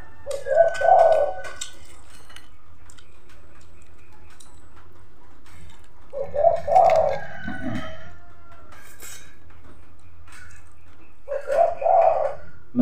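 A pigeon or dove coos in three separate bursts spaced several seconds apart, soft and rounded, close by in a rural Philippine setting, with quiet background ticking between calls.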